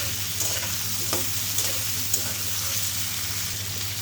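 Bananas cooking with turmeric and salt in a pan, a steady low sizzle with a few soft stirring clicks and scrapes, close by with no talk.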